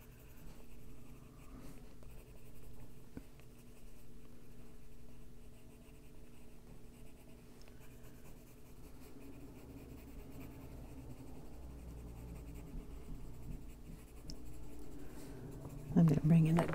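Colored pencil shading on paper, deep cobalt green worked into green areas of an adult coloring page: a faint, steady scratchy scrubbing that continues throughout, soft and close.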